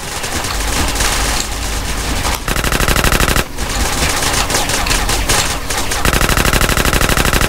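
Rapid automatic gunfire in GTA San Andreas: long loud bursts of machine-gun shots, with brief gaps between the bursts and no voices over them.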